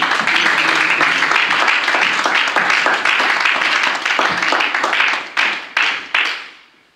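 A church congregation applauds the Lord together, dense sustained clapping filling the room for several seconds before thinning into a few last claps and fading out.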